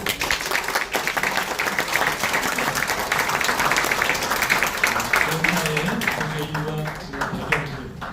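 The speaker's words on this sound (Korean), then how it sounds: "다시 한번 큰 박수 부탁드리겠습니다" Applause from a seminar audience on Korea and the United Nations Command, after a presentation ends. Steady, dense clapping carries through the whole stretch, with a voice speaking over it toward the end.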